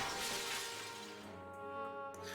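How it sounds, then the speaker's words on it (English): Glass shatters loudly in the video game Labyrinth of Refrain: Coven of Dusk as a window is broken, a bright crash followed by tinkling debris and a lingering ringing tail. "Neldo shatters a window."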